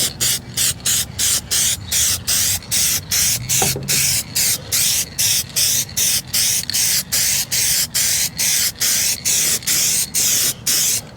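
An aerosol can sprays a second thin coat of Plasti Dip onto a black plastic bumper insert on a Toyota Tundra, in a long series of short, evenly spaced hissing bursts with brief pauses between, close and alone.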